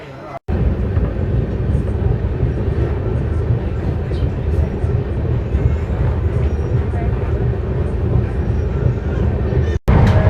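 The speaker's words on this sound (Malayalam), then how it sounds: "വിജനമായ ഏതോ സ്ഥലത്ത് ട്രെയിൻ കൊണ്ട് നിർത്തിയേക്കാണ്." A train moving along a railway gives a continuous, loud rumble and rattle from start to end, with two brief sharp drops near the beginning and the close.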